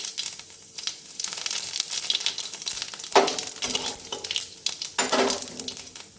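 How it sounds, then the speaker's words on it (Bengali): Cumin seeds sizzle and crackle in hot mustard oil in a kadai, with stirring scrapes and a few metal clinks against the pan, close and steady. "জিরে ফোড়ন দিলাম"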